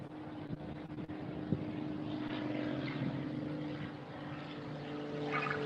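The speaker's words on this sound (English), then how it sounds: "I'm gonna let that damn plane go." Propeller airplane passing overhead, a steady low droning hum with a faint buzzing tone that slowly swells, heard at moderate distance with a few soft knocks nearby and no talking.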